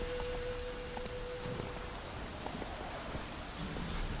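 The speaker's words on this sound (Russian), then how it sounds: "Эй, дождь, да что ж такое-то?" Steady rainfall in the video game The Witcher 3: Wild Hunt, a dense continuous patter of drops on surfaces with scattered faint clicks and a brief soft tone, with no talk over it.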